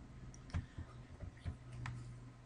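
Someone typing a web address on a computer keyboard: sparse, soft key clicks in an irregular rhythm over a low background hum.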